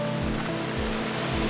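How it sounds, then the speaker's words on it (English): Rushing waterfall heard up close as a dense, steady broadband roar with periodic low surges, filling the whole moment without any voices. "Here's the waterfalls."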